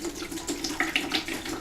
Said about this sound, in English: I'm going to just pour the juice into the bucket